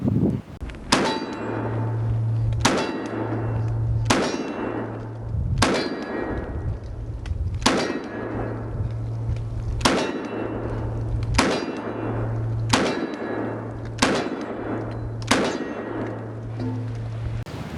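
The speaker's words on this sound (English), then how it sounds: "I'm just gonna put a round on each plate again" Handgun rounds striking steel target plates in a speed and accuracy drill, about a dozen sharp ringing clangs at a quick, even pace, each with a brief metallic ring-out.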